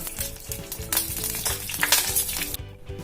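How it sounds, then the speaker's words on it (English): Brinjal slices coated with turmeric and salt fry in hot oil in a pan, a dense, close, continuous sizzle with crackling pops and a few light clinks, then a sudden dip at the end. "I've coated the brinjal well with the turmeric and the salt, and now we're gonna add them one by one to the oil"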